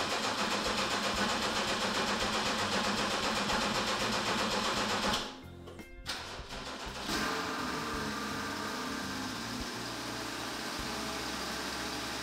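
Porsche GT-E car engine running steadily as it backs out of a garage under gas power, a loud continuous rumble with a brief dip and sputter midway before the steady drone resumes.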